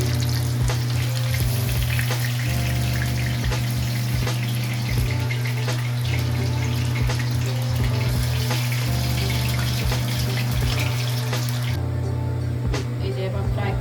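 Soya chunks deep frying in hot oil, a loud continuous bubbling sizzle close by with a steady low hum underneath, lasting throughout without letup.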